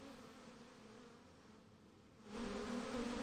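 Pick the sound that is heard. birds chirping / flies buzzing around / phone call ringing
flies buzzing around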